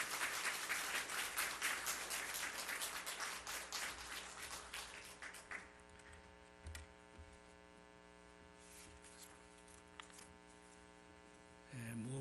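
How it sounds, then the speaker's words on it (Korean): Church congregation applauding in a sanctuary, a dense wash of many hands clapping that swells loudly at first and gradually thins and fades over several seconds, leaving a steady low electrical hum underneath. "박수하겠습니다."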